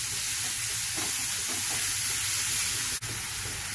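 Onion and cumin seeds sizzle in hot oil in a pan, a steady close frying hiss with light stirring clinks throughout.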